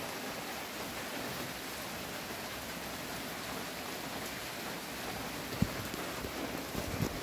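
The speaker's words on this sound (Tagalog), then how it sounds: "So, maulan na panahon lang." Rain falls in rainy weather as a steady, even wash of hiss throughout, with a couple of faint, isolated drip taps near the end.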